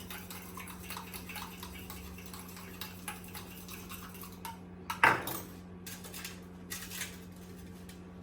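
A spoon scrapes and clinks around a bowl as a home dark-circle remedy is mixed, with soft repeated scraping and one sharper knock midway, fairly close, no voices.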